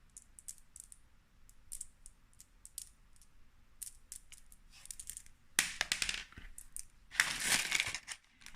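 Hard plastic nail charms, solid like marbles, click and tick against one another in scattered sharp taps, then swell into two louder rattling, crunching shuffles as the pile is stirred, close up with no talking.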